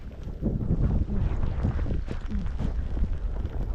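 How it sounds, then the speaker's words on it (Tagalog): Strong gusty wind in a snowstorm buffets the microphone with a low, rumbling roar that surges and fades continuously. "ang lakas ng hangin"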